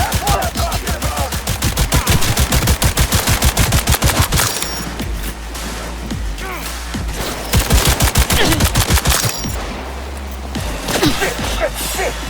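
Loud, rapid automatic gunfire in the video game Cyberpunk 2077, dense bursts of shots in long runs with brief pauses between them, over game sound and music.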